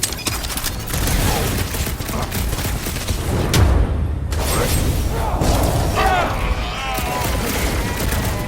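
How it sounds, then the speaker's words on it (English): Dense, rapid bursts of gunfire and booming blasts in the video game Guardians of the Galaxy roll on continuously, mixed with shouting voices and chaotic action effects. "Sounds like a lot of Florkin gunfire!"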